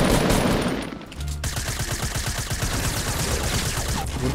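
Rapid automatic gunfire from a weapon in the video game Fortnite, a dense run of close, loud shots that starts after a brief pause and keeps going steadily over game background sound.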